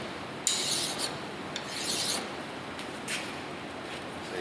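A mill bastard file rasps across a soft bolt in several close, distinct strokes, each a harsh scraping burst with quieter pauses between them.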